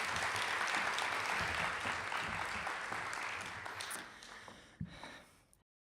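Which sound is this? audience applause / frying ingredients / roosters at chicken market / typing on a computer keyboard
audience applause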